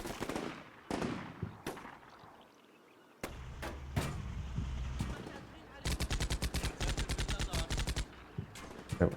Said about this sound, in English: I think our guys can just win just from shooting at them